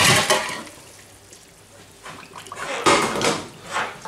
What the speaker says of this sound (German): Wir gießen ihn jetzt hier in ein Sieb